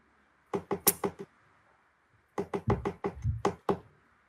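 A sparrow pecks at a door aboard a ship, making crisp tapping knocks in two quick bursts, a short run of five and then a longer run of about nine, close and distinct against near silence.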